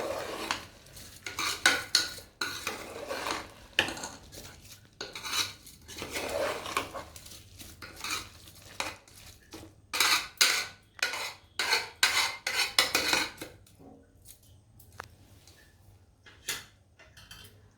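Rice frying in oil for vegetable khichdi, stirred with a spoon that scrapes and clinks steadily against the pan in a near, busy rhythm of strokes, with a soft sizzle beneath and a brief quieter spell near the end.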